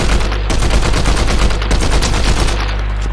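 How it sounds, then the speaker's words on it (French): Loud, continuous automatic gunfire in the Fortnite video game, a dense rapid burst of shots saturating the sound throughout, with no voices. "Ça tire là-bas."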